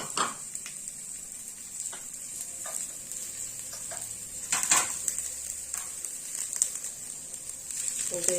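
A medium-size onion and four green chillies sizzle in oil in a pan, a steady close frying hiss broken by several sharp scraping stirs and clinks of the utensil.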